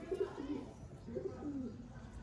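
Old Ali-wala pigeons coo softly nearby in two repeated rounds of low, throaty calls, with faint background murmur under them.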